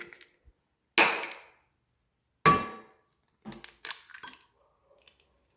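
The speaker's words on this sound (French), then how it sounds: "Donc on casse les œufs." Eggs cracked one after another against the rim of a stand mixer bowl while preparing chocolate chip muffin batter, giving two sharp cracks followed by a few smaller taps and drips, close and clear with no talking.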